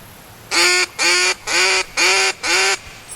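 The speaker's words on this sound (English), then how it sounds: "I'm going to blow a duck call just to keep him getting used to it." Duck call blown during retriever dog training outdoors, five loud nasal quacks in an even rhythm, each about a third of a second long with short gaps, close and alone.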